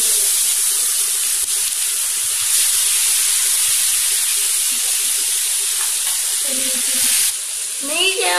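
Marinated murrel fish for varuval fries in hot oil, a loud, even, hissing sizzle that runs unbroken throughout, with faint clinks near the end.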